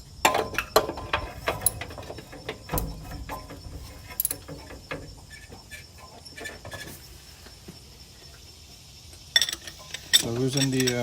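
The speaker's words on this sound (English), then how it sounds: "So loosen the wing nut and then loosen the 14 millimeter." Wrench work loosening a wing nut and a 14 mm bolt on a Honda Civic alternator, a run of metallic clicks, taps and ratcheting rattles, close and irregular, easing off in the middle before sharper clatter returns.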